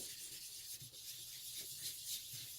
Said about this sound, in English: I'm just going to sponge a little bit of color for the sky